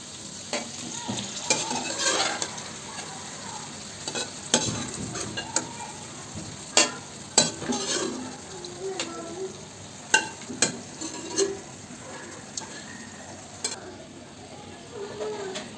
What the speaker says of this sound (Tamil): மட்டன் சேர்த்து நல்லா இது போல் கலந்து கொடுக்கணும்.